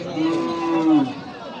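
A crossbred bull on a Mymensingh farm gives one long, drawn-out moo close by, steady and low, fading out after about a second.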